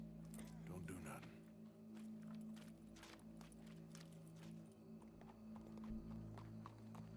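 Hooves clip-clop at a walking pace in Red Dead Redemption 2, soft repeated hoofbeats over a steady low ambient hum, with people talking partway through.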